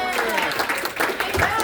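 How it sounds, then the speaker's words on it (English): Audience applause in a comedy show crowd, a dense burst of clapping with some cheering voices mixed in, loud and close for under two seconds. "can I please get a round of applause for the Lord for getting us here safely?"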